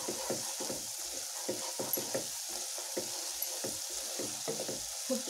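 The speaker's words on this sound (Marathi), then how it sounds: "आम्ही 1-2 मिनटं चांगलं परतून घ्यायचं।" Masala for a sprouted moth bean curry sautéed in a pan crackles and sizzles up close, broken by rhythmic scraping stirs, with no talking.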